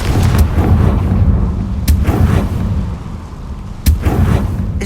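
In Hogwarts Legacy, the Confringo blasting curse sets off loud booming explosions with heavy low rumble, sharp bursts recurring near the two- and four-second marks over continuous game ambience.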